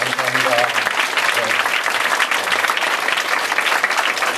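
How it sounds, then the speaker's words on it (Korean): A church audience at an autumn vision festival testimony meeting bursts into loud, dense applause that fills the room evenly from start to finish, with a voice briefly audible at the beginning. "모든 수고하신 분들에게 감사의 우리 박수 우리 격려로 한번 축복하시겠습니다"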